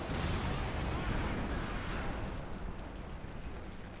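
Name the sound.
tank hit and destroyed in Company of Heroes 2 video game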